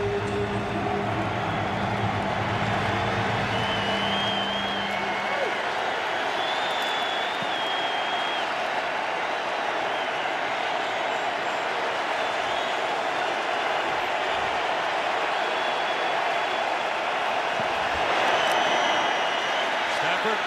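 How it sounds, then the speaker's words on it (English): Football stadium crowd at a Lions vs Cardinals NFL game roaring steadily through a third-and-one play, a dense sustained wash of cheering and noise with a commentator talking over it. "the crowd should turn it up a notch here on 3rd and 1"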